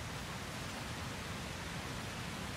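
A waterfall in the video game Shadow of the Colossus, a constant dense rushing roar with no gaps, filling the sound evenly and loudly throughout, no speech over it.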